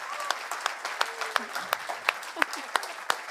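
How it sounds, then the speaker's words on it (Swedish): Sparse, scattered hand claps at an award ceremony for an agtech innovation competition, individual sharp claps spaced irregularly at moderate distance, with faint voices murmuring underneath. "en välförtjänt varm applåd till Ulla"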